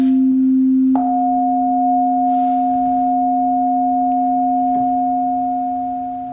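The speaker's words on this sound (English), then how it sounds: "Now listen to the natural 11th." A pure, steady electronic tone at the natural eleventh harmonic holds over a lower sustained drone, sounding slightly out of tune against it, with faint clicks in the background.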